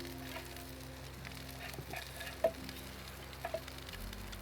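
Crayfish pieces fry quietly in a pan, giving a soft, steady sizzle with a few small pops and clicks, faint and close.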